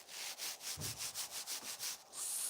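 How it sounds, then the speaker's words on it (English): Stiff-bristled hoof brush, like a scrub brush, rubbed back and forth in a steady run of about a dozen scratchy strokes, close and fairly quiet with no talking. "So this is a hoof brush, like a scrub brush, really stiff bristles"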